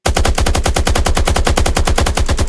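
Rapid automatic gunfire from a weapon shooting zombies in an Unreal Engine 5 Call of Duty Zombies-style game, a loud, steady stream of evenly spaced shots running without pause.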